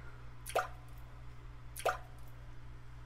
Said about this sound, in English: Wherever they are falling in, wherever they are coming from, the drops just continue to trickle out.